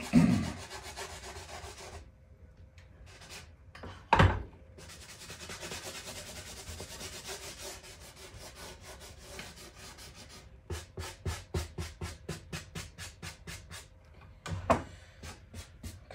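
Oil pastel rubbed and blended on a sanded surface while painting a waterfall scene, giving soft, steady scratchy rubbing that turns into a quick run of short, rhythmic strokes near the end, close and alone.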